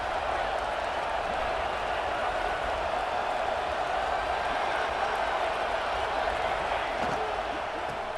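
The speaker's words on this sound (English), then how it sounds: "here comes the noise. This crowd is trying to inspire this defense to make a big red zone stop" A packed football stadium crowd at Arkansas vs. Indiana roars steadily during a red zone defensive stand, a dense, unbroken wall of cheering noise held at constant loudness for the whole stretch.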